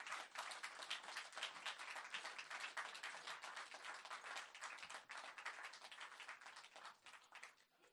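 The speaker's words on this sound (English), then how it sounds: "a bit of a round of applause for all of the roasters here tonight" The crowd at a comedy roast applauds the roasters, a continuous patter of many hands clapping, evenly dense and heard faintly at a distance, easing off slightly toward the end.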